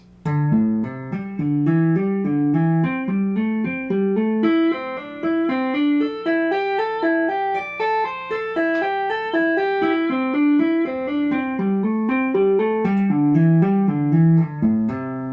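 Clean electric guitar notes two-hand tapped in a steady, slow, repeating pentatonic pattern that climbs and descends, played alone with no talking.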